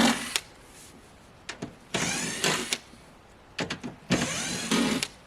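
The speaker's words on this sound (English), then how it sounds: "But let me get this screw out first." A power driver backs a screw out of wood while building an off-grid homestead cabin, with repeated short whirring bursts of the motor starting and stopping, close and fairly loud.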